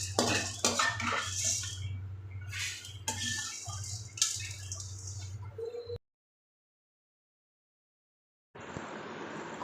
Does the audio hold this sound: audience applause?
no